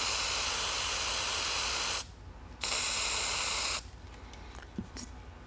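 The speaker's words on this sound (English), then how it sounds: "I'm going to take our flat white and mist it from the back side only." Aerosol spray paint in flat white misting onto artificial flowers: a loud steady hiss for two seconds, a brief pause, then another long burst before stopping, followed by faint handling noise.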